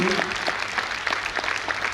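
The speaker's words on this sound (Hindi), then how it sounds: "ताली बजाओ भाई परमेश्वर के लिए।" A congregation claps at a church meeting of pastors and evangelists, a brisk, continuous patter of many hands that runs evenly for a couple of seconds.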